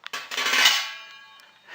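A metal lid set down on a cooking pot holding veal tongue and vegetables, giving one short bright clang that rings and fades over about a second, with a faint scrape at the end.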